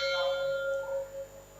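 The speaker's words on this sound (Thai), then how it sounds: "ตอนนี้ระฆังดังแล้ว" A temple bell at Wat Mon Ruesi in Doi Lo, Chiang Mai, rings out with a bright, sustained metallic tone whose shimmering overtones slowly fade, heard fairly close and clear with no one speaking.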